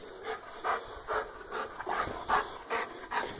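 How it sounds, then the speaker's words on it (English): A soaked dog, just in from cold December rain, pants in quick rhythmic bursts of breath, close and fairly soft, with no talk over it. "All I can smell is wet dog."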